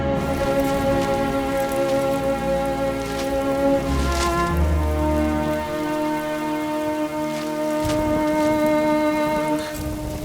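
Steady rain falls throughout, a continuous close patter that stays loud and even from start to end, with no talk over it.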